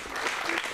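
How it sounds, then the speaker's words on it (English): Applause from a children's camp show audience, a short, fairly faint wash of clapping lasting under a second. "I love the sound of applause."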